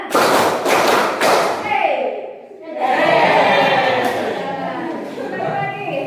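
A classroom group claps hands in a counted rhythm during an ice-breaking game, sharp loud claps in quick bursts, then a voice talks over continuing noise.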